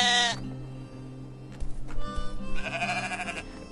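In the video game Moirai, a short sheep bleat opens the moment, followed by a later, wavering bleat over soft ambient game tones and a few light thuds, all fairly close.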